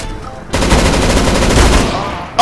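Sustained rifle fire in CS:GO, a dense rapid burst of loud close gunshots starting abruptly and continuing for about two seconds.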